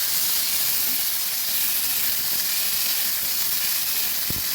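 Prawns fry in hot oil in a pan with a steady, close sizzle and hiss that stays even and fairly loud, with a brief clink near the end.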